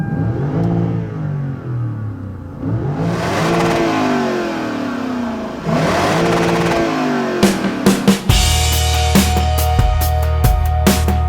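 A 2015 Cadillac Escalade and a Lexus LS460 launch side by side in a drag race, their engines revving loudly with rising, sweeping whines as they accelerate hard through gear changes, then buffeting wind noise and thumps as they run at speed.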